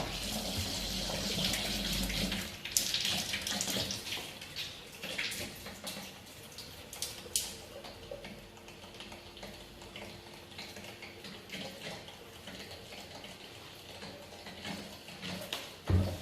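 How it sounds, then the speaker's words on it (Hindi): A Kangen water machine dispenses 9.5 pH water, a steady running stream with small clicks and mechanical knocks over a low hum, fairly quiet and close, with no talking. "बटन प्रेस करना रहता है और इस मशीन से यहाँ से पानी आ जाता है।"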